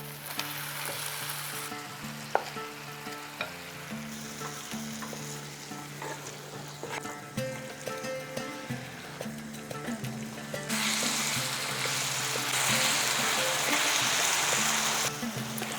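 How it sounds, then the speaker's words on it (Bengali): Marinated soybean chunks sizzle and fry in hot oil and spice masala, a steady close crackle with occasional stirring clinks that swells louder and hissier toward the end. "ঠিক সেই সময় দিয়ে দিচ্ছি ম্যারিনেট করে রাখা সয়াবিন"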